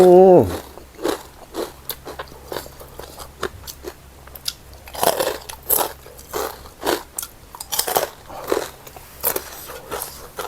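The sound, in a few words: crunchy pork cracklings being eaten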